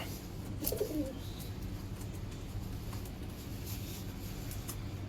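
Pigeons kept for sale in Odisha give a single low, rolling coo close by early on, over a steady hiss of background noise.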